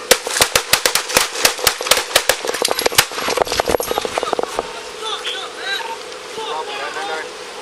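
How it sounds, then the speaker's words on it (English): Police gunfire at a man seated in a car: a rapid volley of sharp, loud shots in quick succession for about four seconds, then shouting voices. "The gun remains in Garcia's lap after the shooting"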